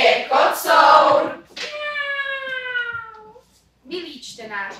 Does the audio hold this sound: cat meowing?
yes